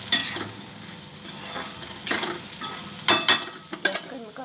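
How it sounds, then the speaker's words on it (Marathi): Okra frying with salt, turmeric, crushed peanuts and chili powder in a pan is stirred with a utensil, giving a steady sizzle broken by several sharp scraping strokes against the pan. "चांगली हलवून घ्यायची अशी भेंडी."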